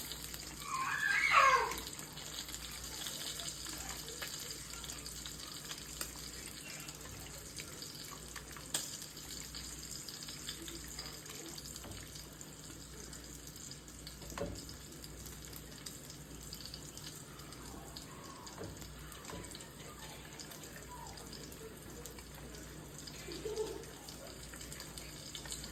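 Steak sizzling in a hot pan, heard as a steady, close hiss with faint crackles and no talking.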